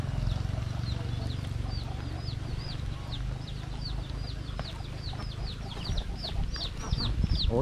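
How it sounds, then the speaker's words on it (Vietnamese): Many chickens kept on a Vietnamese farmyard cluck in a steady chorus of short repeated calls, close and fairly loud over a low background rumble, with no talk. "Ủa gà này có ai nuôi nhiều vậy chú?"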